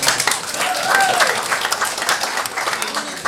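An audience at a comedy show claps in a brief burst of scattered, uneven applause, moderately close and lively, with some murmuring voices mixed in.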